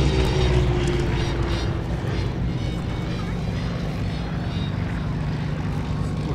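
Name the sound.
Swiss Pilatus P2 propeller plane passing at airshow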